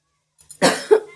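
A woman coughs once loudly and close, with a harsh burst followed by a second rougher cough, preceded by faint small throat sounds.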